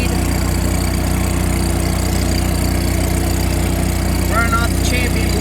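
A Champion Elite generator runs steadily at close range, a loud low droning engine hum with constant vibration, while a voice speaks briefly over it near the end.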